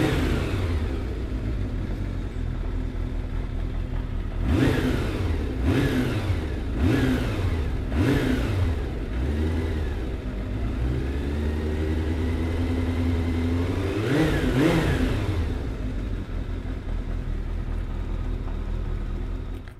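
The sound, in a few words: Kawasaki GPZ550 motorcycle engine starting and revving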